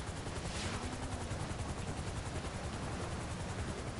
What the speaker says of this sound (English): Are you trying to shoot the helicopter?